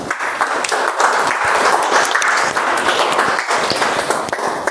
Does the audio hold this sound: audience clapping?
yes